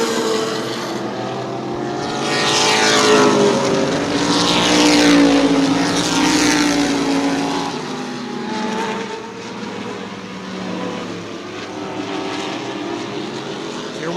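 Modified race cars roar down the front straightaway at New Smyrna Speedway, loud engine snarls swelling and fading as several cars pass close by in waves, with no talk.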